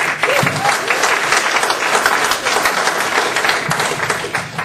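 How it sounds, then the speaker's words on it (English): A live audience claps steadily in a dense, even burst of applause, near and loud throughout, welcoming a speaker onto the stage at an accounting talk. "Please put your hands together for Greg Kyte, everybody."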